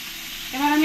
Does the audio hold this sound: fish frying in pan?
yes